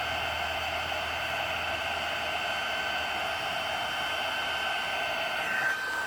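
A craft heat tool warms embossing powder on a Christmas card, giving a steady, loud, even blowing hiss with no break for the whole stretch and no voices.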